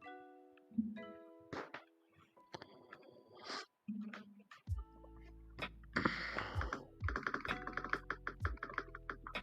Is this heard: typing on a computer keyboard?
yes